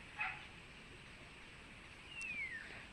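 A backyard farm dog lets out a faint, distant yelp near the start and a later whining, falling cry, quiet against a soft outdoor background.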